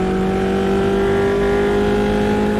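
A race car engine in the AMS2 sim racing game drones loudly and steadily, a continuous close mechanical roar with sustained tonal harmonics and no talk.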